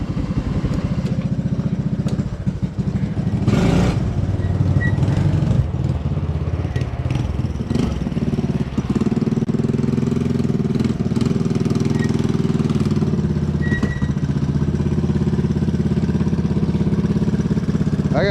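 A Honda ATC200S three-wheeler's engine runs steadily throughout, a loud, close, continuous mid-pitched putter with a brief clatter partway through.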